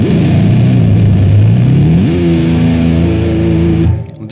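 A Vigier Excalibur Pro electric guitar with a locking tremolo rings out loud and distorted, its sustained note bent by the tremolo arm, then rising in pitch and dropping away abruptly at the end.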